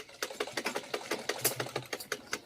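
A sewing machine stitches piping thread with a double foot in quick, even bursts of clatter. The sound is fairly faint and close, with no talking.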